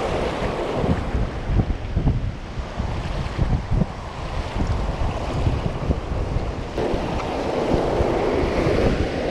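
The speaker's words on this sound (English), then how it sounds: "Hopefully it won't be too wind noisy because it's really windy." Strong wind buffets the microphone in heavy, gusty bursts over the broad roar of surf and open water nearby while fishing.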